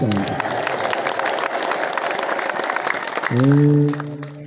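A church crowd in Dangila applauds the scholars with steady, dense clapping, then breaks into a loud, high, wavering ululation near the end.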